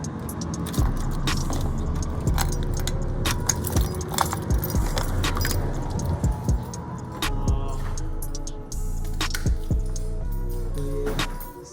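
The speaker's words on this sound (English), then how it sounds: "keys." A bunch of keys jangling in a vehicle during a renovation, with repeated close metallic clinks and rattles in irregular bursts over a low engine-like hum.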